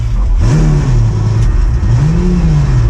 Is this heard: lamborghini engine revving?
yes